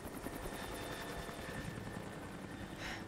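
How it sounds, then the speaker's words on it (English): A helicopter in the Rise of the Tomb Raider video game gives off a continuous, fairly faint rotor drone with rapid pulsing chop, steady throughout. "that damn helicopter ain't even got no damn propeller on top"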